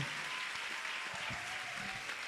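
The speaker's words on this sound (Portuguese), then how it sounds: "queria que vocês batessem uma salva de palmas, medalhista, todos eles aqui" An audience applauds geography olympiad medalists at a school class event, a steady, fairly faint wash of many hands clapping throughout, heard from some distance with a faint tonal hum underneath.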